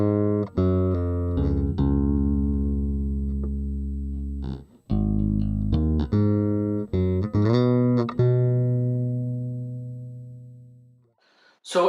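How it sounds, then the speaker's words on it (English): A bass guitar plays near the top of the neck in a metal style, with sustained, full low notes changing pitch one after another, steady and up close with no talking. "if we're playing more of a metal sound, if you will, people would normally tend to play around top of the neck"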